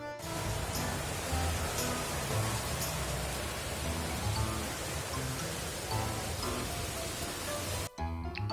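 Continuous heavy rain falling in New Delhi during a cyclone, a steady, even hiss of dense rainfall with occasional faint drips and taps, cutting off abruptly near the end.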